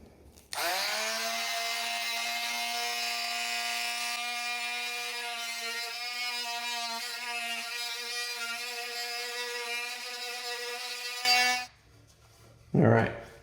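A saw blade cuts old glue out of a wooden dovetail joint in one long, steady, buzzing stretch of about eleven seconds, loud and close, then stops abruptly, followed by a couple of short knocks.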